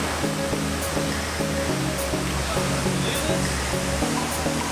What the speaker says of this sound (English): You know, I've seen a few waterfalls. This one is powerful.